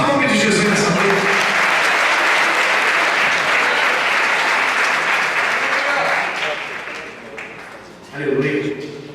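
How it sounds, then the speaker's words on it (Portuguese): A church congregation applauds loudly at an evening communion service, a dense sustained wave of clapping that fades near the end before a voice speaks over it. "Aplauda o nome de Jesus nessa noite."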